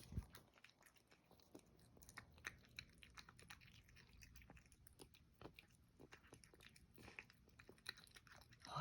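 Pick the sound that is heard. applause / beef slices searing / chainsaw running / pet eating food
pet eating food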